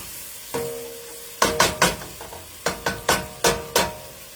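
Meat browns in a pan for homemade chili as a spatula stirs it in a series of sharp, sizzling scrape strokes, some single and some in quick bursts, close and clear with no voices.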